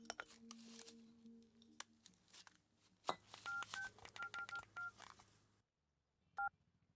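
A string of short electronic beeps from a mobile phone keypad, tone after tone in quick succession, following some clicks and handling, with one last beep after a pause.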